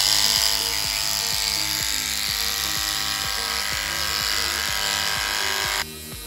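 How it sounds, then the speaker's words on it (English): Large electric clippers buzz steadily and loudly while trimming a bushy pony tail, a continuous motor drone with a rhythmic pulsing, dropping slightly in pitch and level near the end. "I'm using the big clippers"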